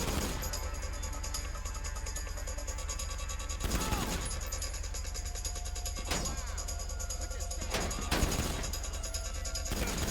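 Scattered gunfire in GTA V rings out over a steady, busy game soundscape, with a few sharper bursts standing out around the middle and near the end.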